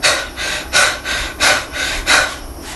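Rapid, heavy panting breaths come in a quick, regular rhythm of about five hard gasps, close and loud with no speech.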